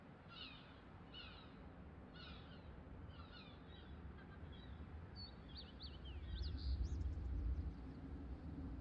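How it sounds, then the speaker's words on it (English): Bird calls ring out in the Arma Reforger battlefield, a run of short repeated chirping phrases at a steady rhythm, then quicker warbling notes over a low rumbling wind-like background. "I can hear another little bird"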